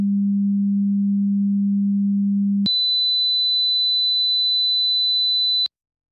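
Two steady sine test tones for loudness comparison. A low hum holds for about three seconds, then switches abruptly to a piercing high tone of similar length, with no talk.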